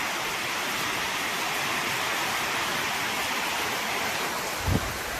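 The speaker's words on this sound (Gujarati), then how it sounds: "આ ધાબાનું પાણી આવે છે." Rainwater pours steadily off a terrace roof during heavy, continuous village rain, a dense unbroken rush of splashing water throughout with one brief louder splash near the end.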